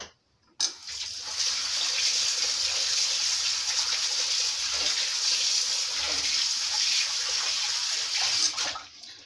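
Hands are washed under a running kitchen tap, a steady close gush of water that starts abruptly and flows continuously before cutting off at the end.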